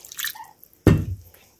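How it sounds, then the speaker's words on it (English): Water is poured into flour for children's party chips, giving a single sudden splash that is close and fairly loud, preceded by faint kitchen clatter and followed by quiet. "So we want to add some water to it."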